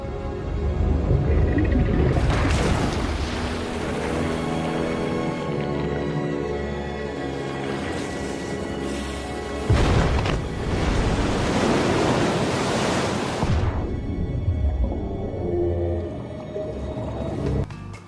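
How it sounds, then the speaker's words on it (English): A whale breaches the ocean surface in a film scene, with heavy surging water and crashing spray rising in two big roaring bursts over a loud, windy sea backdrop. "And the whale breaking the water scene."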